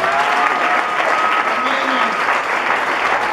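A church congregation applauds in a dense, continuous wash of clapping that fills the room at steady loudness throughout, with a few voices faintly mixed in.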